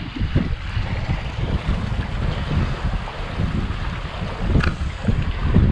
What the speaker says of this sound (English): Right now we're sailing just downwind.